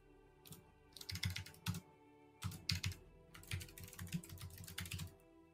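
Bursts of rapid typing on a computer keyboard, clustered keystrokes clattering close and clear in short runs separated by brief pauses, with no talking.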